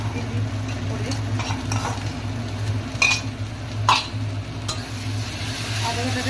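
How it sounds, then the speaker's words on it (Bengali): Ginger paste being stirred into chicken in a pan for dahi chicken, after tomato has gone in: steady scraping and stirring strokes over a low, continuous sizzle, with a couple of sharper clinks of the utensil against the pan. "আদা বাটাটা দিয়ে একটু নাড়লাম।"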